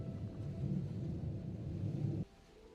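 Thunderstorm ambience played as background for a late-night stream: a low, steady rumbling wash of rain and thunder that cuts off abruptly near the end, soft and continuous with no talk.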